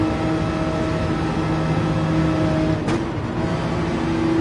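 A race car engine in Gran Turismo 7 at the Daytona racetrack, held flat out as a steady, loud drone with a constant whine throughout, plus one brief sharp tick near the end and no speech.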